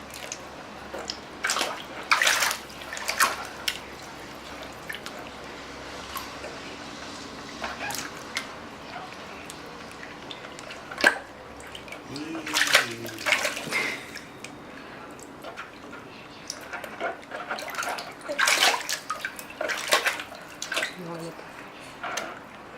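A small child splashes water while bathing in a big bucket at home, giving soft intermittent splashes and drips close by as an adult speaks gently throughout.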